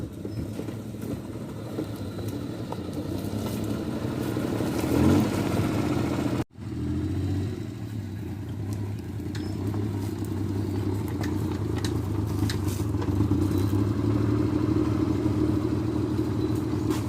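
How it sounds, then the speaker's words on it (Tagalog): A motorcycle engine runs steadily and close for the whole stretch on a ride to a farm, with a medium rumble that rises and falls with speed, broken by one brief dropout partway through. "mag motor lang tayo"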